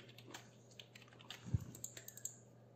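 Typing on a computer keyboard while coding, a quiet, irregular run of soft key clicks with one louder thump, close by in a quiet room.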